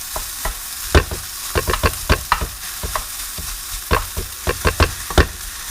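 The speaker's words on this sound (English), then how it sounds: "Gently stir. Stir from the bottom." Steady frying sizzle of fried rice in a hot pan with repeated scraping and clanking of a utensil stirring from the bottom, irregular strokes close to the microphone.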